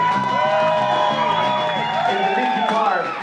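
Audience applause and cheering for a band member being introduced at a live show, dense clapping with whoops from the crowd while a voice talks over it, loud and close throughout.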